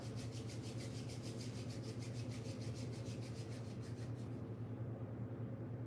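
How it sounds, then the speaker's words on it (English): Palms rubbed briskly together in a yoga session, a steady rapid swishing friction close by that stops near the end, with no voice. "Rub your palms together."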